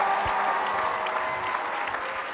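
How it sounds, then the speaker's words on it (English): Audience at the FIRST LEGO League World Festival closing ceremony applauding, a dense steady wash of clapping from a large crowd. "Let me hear a round of applause."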